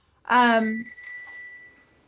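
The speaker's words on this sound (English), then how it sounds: "I just heard a bell." A single bright bell rings out loud and close, a sharp struck tone with a long ringing decay that fades over about a second and a half.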